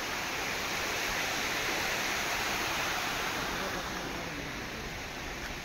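A river in Nagpur rushes over a weir in a loud, continuous broadband roar that stays steady throughout, with any voices buried beneath the water.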